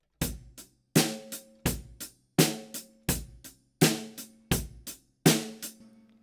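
A more developed drum groove played on a drum kit: a steady pattern of strong strikes with quicker, lighter hits tucked between them, each ringing out briefly, close and with no voices.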